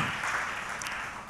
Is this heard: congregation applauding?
yes